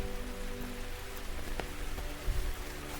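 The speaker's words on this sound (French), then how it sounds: "Il pleut à chaque fois." Rain falling during a road trip in Spain, a soft continuous patter and hiss with a few scattered louder drops and thumps, moderately close and without talk.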